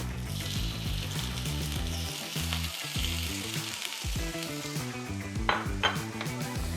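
Shrimp and tomatoes sizzle in a frying pan in a commercial kitchen, a close, steady hiss and crackle broken by occasional light clinks of a utensil stirring against the pan.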